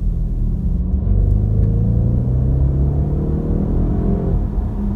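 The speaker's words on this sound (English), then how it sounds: "Nice and effortless, smooth acceleration from 0 to 70 there in literally about, you know, 3 or 4 seconds." An Audi RS6 accelerating hard from 0 to 70 gives a loud, deep engine rumble whose pitch climbs steadily through the gears in smooth, continuous sweeps.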